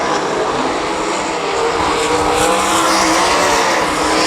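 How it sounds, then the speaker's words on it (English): Sprint cars with 360 engines roar together in a loud, sustained, unbroken engine wail as the field races around a dirt track during a heat. "Noah Samuel running a strong race in that second spot. Second week with a 360 under the hood"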